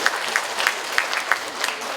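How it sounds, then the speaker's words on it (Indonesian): At a public service innovation workshop, the audience gives a short burst of applause, with several distinct sharp claps standing out over a busy patter of hands. "Tepuk tangan dong untuk Bandung"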